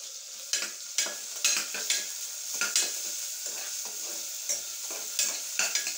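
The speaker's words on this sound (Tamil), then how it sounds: "எப்போவுமே நம்ம வெங்காயம் இஞ்சி பூண்டு பேஸ்ட்டு வந்து கரியாமல் வதக்கணும்." Ginger garlic paste and cardamom powder fry in a pan as a spoon stirs them, with repeated scraping strokes over a continuous close sizzle and no talk.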